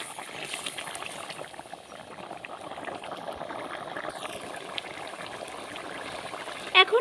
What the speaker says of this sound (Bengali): তরকারি খুব ভালোভাবে ফুটছে।